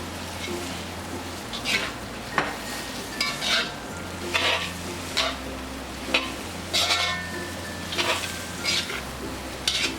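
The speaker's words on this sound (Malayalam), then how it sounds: "ഈ വേവിച്ചു വെച്ചിരിക്കുന്ന ചിക്കൻ ചേർത്ത് ഇളക്കി കൊടുക്കാം" Cooked chicken stirred with spice powders in a hot pan for spicy Chettinad chicken, with a rhythmic series of spoon scrapes over a continuous sizzle.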